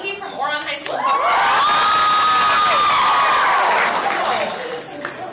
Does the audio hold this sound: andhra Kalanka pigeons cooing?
no